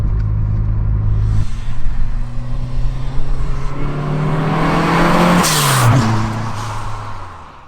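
A Ford Escort RS Turbo Series 1 with a 2.0 turbo engine being driven, its engine droning and rising through the revs up close and loud, then dropping in pitch as it eases off.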